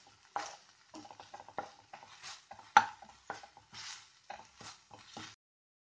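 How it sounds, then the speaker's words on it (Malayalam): A spoon scrapes and stirs through cauliflower gravy in a pot, giving a series of short, close scraping strokes in an irregular rhythm with small clinks against the pot, no voices. "നമുക്ക് ഇതിൻ്റെ അടപ്പ് മാറ്റി ഇളക്കി കൊടുക്കാം."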